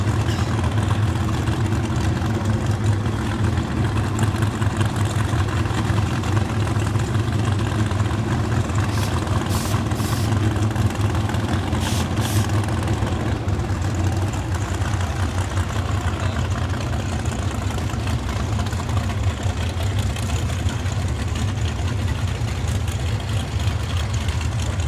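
A 1987 Camaro drag car idles at the lanes of a drag strip, a steady low rumbling engine note that holds throughout with a few brief mechanical clicks partway through.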